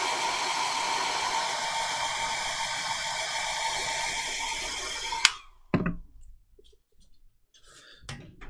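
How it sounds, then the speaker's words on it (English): A hairdryer blows steadily at close range, a continuous whooshing whine that cuts off abruptly partway through, followed by a few scattered clicks and knocks. "blast of the hairdryer"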